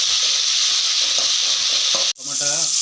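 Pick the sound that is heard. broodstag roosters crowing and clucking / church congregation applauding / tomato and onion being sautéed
tomato and onion being sautéed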